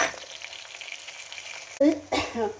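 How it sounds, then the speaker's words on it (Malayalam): Grated coconut roasts in a pan for prawn theeyal, crackling and sizzling close by. A voice talks over the last second. "തേങ്ങ വറുക്കുന്ന സമയത്ത് എങ്ങോട്ട് പോകാതിരിക്കാൻ"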